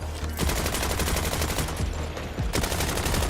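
Rapid automatic gunfire from a heavy-recoil gun in Borderlands 4, a fast continuous stream of loud, close shots, broken only by brief pauses.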